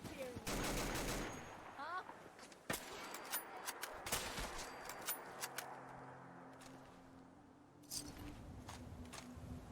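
Gunfire in Fallout 4, a burst of rapid shots up front followed by scattered individual bangs and impacts, loud and close, with a final cluster of shots near the end.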